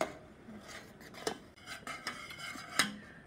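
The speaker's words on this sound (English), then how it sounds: "keep stirring as it's happening, so you don't want it to burn" A utensil scrapes and clicks against a pot while a sugar mixture at a rolling boil is stirred, giving a faint bubbling hiss broken by sharp irregular metallic taps.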